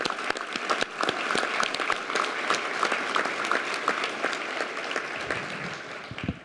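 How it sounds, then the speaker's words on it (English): An audience at a University of Kentucky College of Medicine press conference applauds the medical students, sustained hand claps with sharp individual hits over a soft wash, moderately distant and tapering off near the end. "Please give them a round of applause again."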